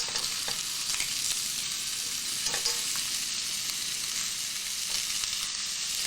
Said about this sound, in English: What is sizzling? That is bacon.